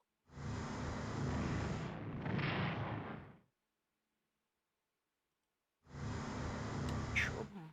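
Shore bombardment artillery fire in the strategy game Strategic Command WW2: War in the Pacific, heard as a loud sustained rumbling barrage for about three seconds, then silence, then another dense burst with faint clicks near the end.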